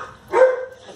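A single short dog bark, close and fairly loud, with a brief whine-like tone in it and quiet background around it.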